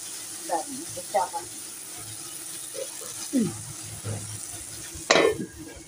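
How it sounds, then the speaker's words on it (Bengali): Potatoes and taro fry in a wok, with soft sizzling under scattered stirring scrapes and clinks of a utensil against the pan, a louder scrape near the end. "একটু ভাজা ভাজা হোক"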